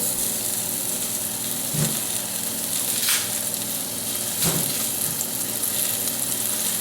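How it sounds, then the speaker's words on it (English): Chopped onion sizzles in hot olive oil in a saucepan, a steady close hiss of frying with a couple of soft clunks, no voices. "Putting my onion in there."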